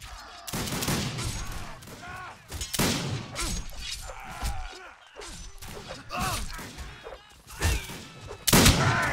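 Musket volleys in a line-battle video game, repeated loud cracks and ragged volleys in uneven bursts with voices calling between them, and a sharp close volley near the end.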